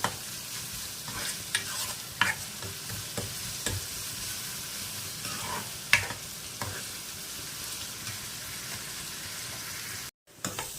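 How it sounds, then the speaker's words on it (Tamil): Onions roasting in a pan until golden, with salt added, crackling in a steady close sizzle while a utensil stirs and scrapes in repeated sharp strokes; no voices. "ஆனியன் நல்ல கோல்டன் கலரில் வர வரைக்கும் ரோஸ்ட் பண்ணி எடுத்துக்கணும்."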